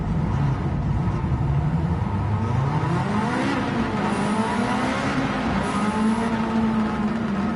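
A tuned car with anti-lag in Gran Turismo 7 revs high and loud, the engine note climbing, dipping and holding in a continuous sustained drone with no talk.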